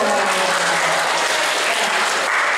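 Dense, loud applause from an audience at a school seminar, continuous and close, filling the whole stretch without a break.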